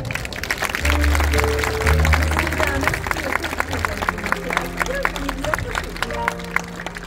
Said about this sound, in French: Merci beaucoup Anne-Laure, on peut l'applaudir encore.